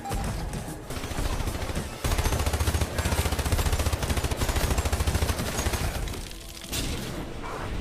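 Rapid, dense gunfire from Hypercharge, a solo and co-op wave-based shooter with defense-building, crackles in loud continuous bursts. Heavier, punchier volleys fill the middle stretch, then ease off before a final flurry.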